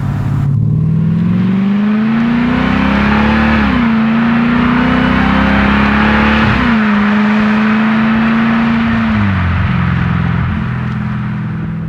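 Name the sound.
2021 Dodge Durango SRT Hellcat engine while driving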